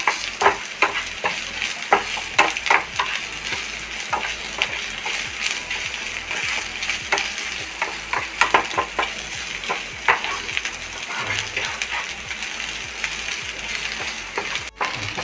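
Grated coconut frying with shallots and about five dried red chillies in a pan, a steady close sizzle broken by frequent stirring scrapes and clicks throughout, with no talking.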